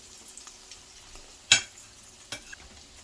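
Chicken cordon bleu fries in a pan with a soft, quiet sizzle, broken by one sharp crackle near the middle and a smaller pop shortly after.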